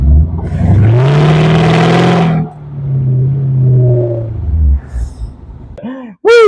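A Mercedes C55 AMG accelerates hard under full throttle, its engine note loud and rising steadily for about two seconds before easing into a sustained drone. A brief voiced exclamation and rustle follow near the end.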